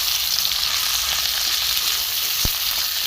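Vegetarian pea and potato curry with coriander leaves sautéing in a pan, a steady close broadband sizzle running throughout with one brief sharp knock near the end.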